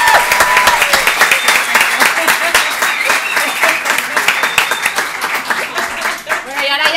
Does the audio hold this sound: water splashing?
no